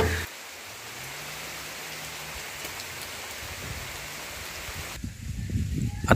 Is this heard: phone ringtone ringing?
no